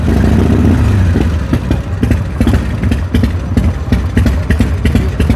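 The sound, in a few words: Harley-Davidson motorcycle engine idling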